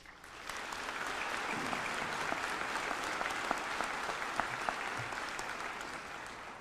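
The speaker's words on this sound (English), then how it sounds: "Please join me in a heartfelt round of applause for the work of all of our dedicated employees." Graduation ceremony audience at a community college commencement giving a sustained, even round of applause, broad and full from many hands, running steadily throughout with no voices on top.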